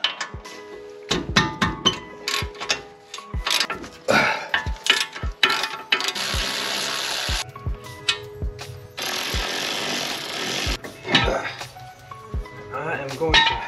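A ratchet wrench clicks and cranks as brake calipers are unbolted from a 2004 Subaru Impreza WRX during a front wheel bearing job, with rapid metallic ratcheting bursts and sharp knocks up close, while a person talks.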